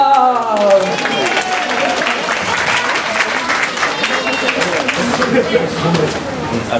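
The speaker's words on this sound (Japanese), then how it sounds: "では大きな拍手でお迎えください。" At a dance show, an audience breaks into loud, sustained applause to welcome young dancers. Dense clapping mixes with crowd chatter and continues steadily throughout.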